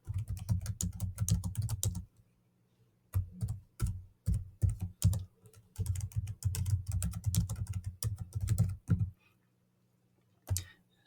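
Computer keyboard keys clacking while HTML text is typed, close and crisp bursts of rapid keystrokes separated by short pauses, with a lone tap near the end.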